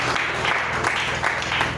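A church congregation applauds in praise, with a dense, steady wash of clapping hands filling the room at close range.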